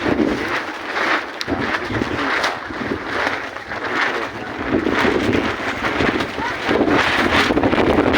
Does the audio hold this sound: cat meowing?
no